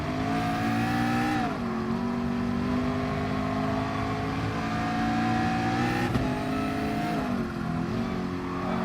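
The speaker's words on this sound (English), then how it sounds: "Nice noise coming off the back of that Audi." Audi race car in the GT Sport video game roaring at high revs, its engine note climbing and dropping through gear changes with sharp backfire pops, loud and close with no talk.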